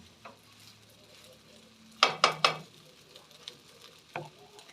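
Rice and shrimp being stir-fried in a pan sizzle steadily, broken by three sharp, close scraping stirs in quick succession and another stroke a little later.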